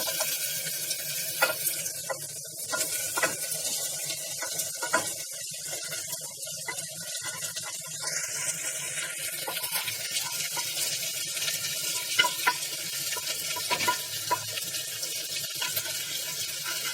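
Mutton pieces hit a pan of reduced hot oil for a roasted mutton curry, giving a steady broad frying hiss with scraping and stirring clatter throughout, fairly quiet and close.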